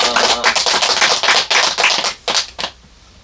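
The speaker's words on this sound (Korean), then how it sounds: "하나님께 영광의 박수 올리겠습니다." A church congregation claps in rhythmic bursts during a Pentecost service, a string of sharp, close claps that thins out and stops near the end.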